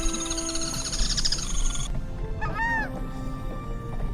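Wild birds in the Iberá wetlands calling in a busy chorus, with honking, goose-like cries and a few clear rising whistles over steady ambient noise, fairly close and loud.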